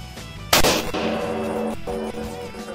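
A rifle fired at a range to check its zero before a Wyoming antelope hunt: one loud, sharp report that rings and echoes for a moment, heard over music.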